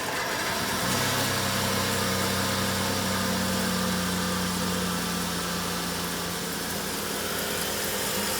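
Jeep engine running after a jump start on a flat battery, a steady droning idle that kicks in at the start and runs on, loud and close, with no talking.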